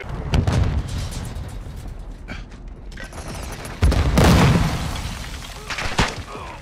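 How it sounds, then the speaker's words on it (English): Grenade blasts in Modern Warfare II multiplayer, a sharp broadband boom early and a bigger, louder burst midway that rumbles on, amid scattered gunfire and game noise. "Throwing grenade!"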